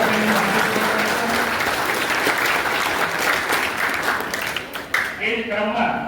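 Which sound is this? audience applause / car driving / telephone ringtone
audience applause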